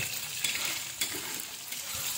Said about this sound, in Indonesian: Oke, saya goreng ya, supaya dia nggak kena minyak aja.